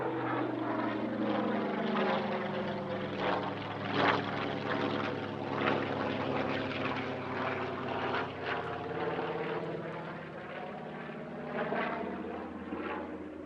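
A TBM-3E Avenger warbird flies a display at an airshow, its big radial piston engine droning loud and steady throughout, the tone rising and falling as the aircraft passes.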